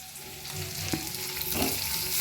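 Capsicum, carrot and onion frying in a pan, a continuous crackling sizzle with occasional stirring scrapes and a soft clink, close and fairly loud throughout.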